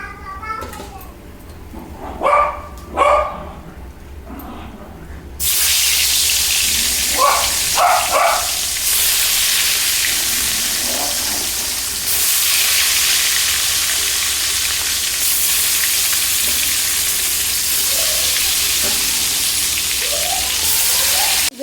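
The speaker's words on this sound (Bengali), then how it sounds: "বাকি মাছগুলো আমি একইভাবে ভেজে তুলে নিচ্ছি" Pieces of rohu fish fry in hot oil with a loud, steady crackling sizzle that starts abruptly after a few quiet seconds and persists, with a voice speaking briefly before and intermittently over it.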